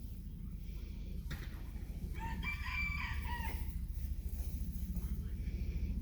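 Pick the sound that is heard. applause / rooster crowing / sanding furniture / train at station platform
rooster crowing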